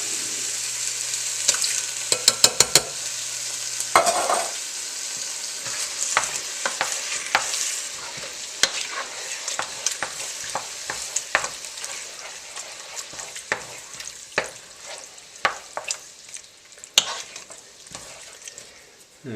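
Canned diced tomatoes with their juices hit a hot pot of garlic and aromatics, setting off a loud, steady sizzle with scattered clinks of a stirring spoon that gradually settles to a softer frying hiss.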